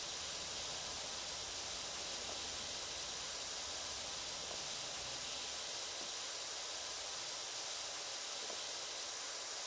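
A pressure washer spraying in PowerWash Simulator on a playground, a steady hissing jet of water that stays loud and even throughout, with no pauses and no voices.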